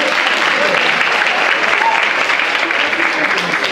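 A crowd claps loudly and continuously at the awards ceremony of a diocesan dance show, a dense close wash of applause with some voices mixed in.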